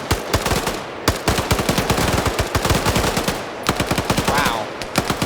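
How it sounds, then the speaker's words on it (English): Suppressive machine gun fire in a military video game training operation set in Africa, loud rapid bursts of automatic shots in close, rhythmic volleys with brief pauses. "A lot of suppressive fire going on."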